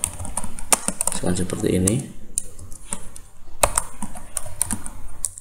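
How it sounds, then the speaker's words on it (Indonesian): Quick, close clicking of computer keyboard keys while entering data into an Excel spreadsheet, with someone speaking briefly partway through the typing. "Kita ketik gabungannya"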